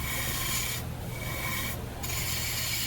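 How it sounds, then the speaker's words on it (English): A bowl gouge cuts the inside of a wooden bowl spinning on a lathe at about 1500 RPM, giving a steady rasping scrape over a low motor hum, with two brief lulls where the tool lifts off the wood. "So I'm using the bowl gouge, and I'm running the lathe speed, still about 1500 RPM."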